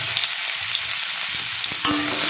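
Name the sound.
boiled garlic frying with dried chillies in oil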